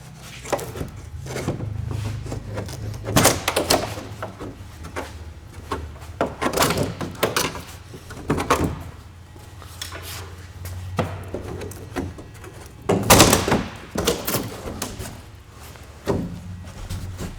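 A screwdriver pries up the ends of a new toolbox's packaging, producing a series of close wooden thunks, cracks and scrapes at irregular intervals, with a few sharper loud pops.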